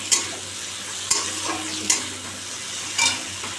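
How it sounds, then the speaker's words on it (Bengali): Eggs frying and being stirred in a pan for a Bengali egg curry, with a spatula scraping and tapping the pan four times over a steady, close sizzle. "দিয়ে দিয়ে ডিমগুলো দিয়ে কষাবো, আরও বেশি ভালো লাগে।"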